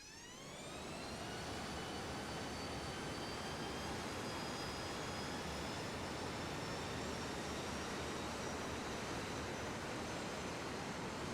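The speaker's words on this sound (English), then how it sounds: "let's go ahead and give it some little bit of throttle and see if we can" A Harrier II jet engine in Microsoft Flight Simulator 2024 spools up from quiet to a steady roaring whine, rising tones sliding upward over a broad rush of noise that holds loud and constant.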